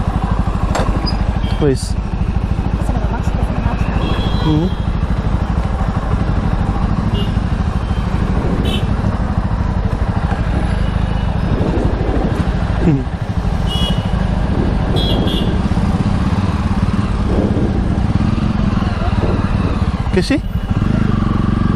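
Jawa motorcycle engine running steadily throughout, a constant rumbling drone with occasional clatter, while a person speaks briefly over it.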